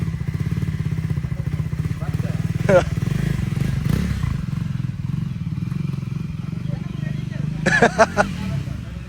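A scooter under restoration idles close by, its engine putting out a steady rhythmic pulse throughout while people talk over it, with a short rattle of clatter near the end.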